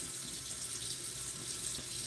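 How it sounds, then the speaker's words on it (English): Cold tap water runs steadily into a kitchen sink to defrost food, a constant broadband rush with no talk over it. "I have the cold water running to defrost it."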